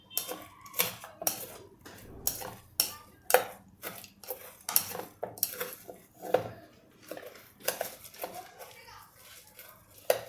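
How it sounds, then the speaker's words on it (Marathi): Jhal muri, the Bengali puffed-rice street snack, spooned from a bowl onto a plate, giving a steady run of sharp utensil clinks and scrapes against dishware, close and fairly loud. "मी सरळ प्लेटमध्ये ही झालमुडी आत्ता काढणार आहे"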